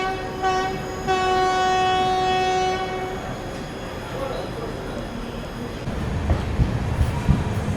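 The Tirupati–Puri Express, running with LHB coaches, pulls out of Kalahasti station, opening with a long, loud horn blast, then settling into a rolling rumble and rising clatter of wheels as it gathers speed.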